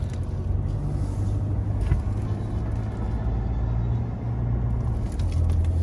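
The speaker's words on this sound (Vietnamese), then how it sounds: "Đây anh đang đi xe máy trước à" Motorbike riding along a road in Vietnam, a steady low engine rumble with road and wind noise, constant and close throughout, with no talking.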